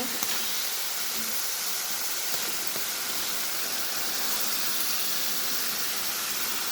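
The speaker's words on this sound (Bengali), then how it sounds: "এখন আমি মাংস দিয়ে দিব" Meat dropped into hot frying masala gives a soft, even sizzle, a continuous faint hiss with no talk.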